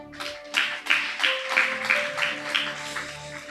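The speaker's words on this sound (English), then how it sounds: "Clap your hand, church." A church congregation at a ministers retreat claps in a steady, even rhythm of about three beats a second, moderately loud over sustained keyboard chords.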